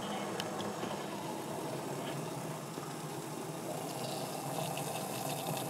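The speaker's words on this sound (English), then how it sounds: "we have a full boil." Water at a full rolling boil in a Trangia cookset pot, a faint, steady bubbling hiss with no pauses and no one talking.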